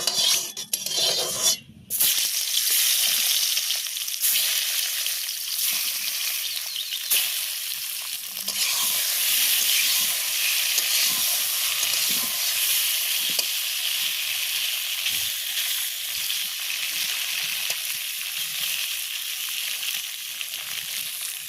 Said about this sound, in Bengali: আগে মাছটা ভাজি করে নিই।